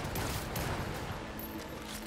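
A pistol-like gun fires in Cyberpunk 2077 as a dense, continuous rattle of rapid shots blurring together at moderate volume, with no one speaking over it.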